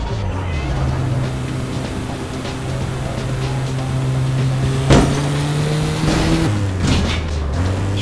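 A car engine in APB Reloaded drones loud and close with steady tones that rise and shift as the vehicle drives, a sharp knock mid-way and a gear change near the end.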